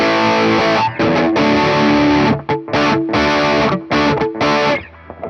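Heavily distorted electric guitar through a budget IYV IP-350 guitar and a Klon-style distortion pedal, playing loud sustained chords in bursts, with short gaps between strummed phrases.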